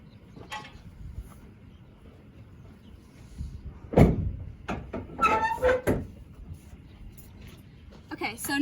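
A horse trailer door swings and shuts with a sharp metallic bang, followed by rattling latch clanks and scraping, close by amid quiet background with a voice speaking nearby.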